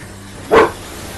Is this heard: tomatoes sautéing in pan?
no